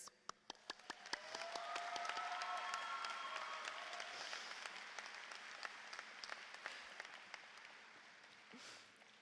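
At a 2013 graduation convocation, the audience claps and cheers for the faculty. The applause is steady and fairly distant, with sharp individual claps at the start, and it swells, then fades out.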